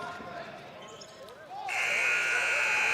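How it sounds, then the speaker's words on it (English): A buzzer sounds at the end of a boys high school basketball game between James Monroe and Princeton, a loud sustained blare starting partway through over crowd noise and a commentator talking. "the shot is blocked and out of bounds at the buzzer, so Ryan Mann couldn't get it to go"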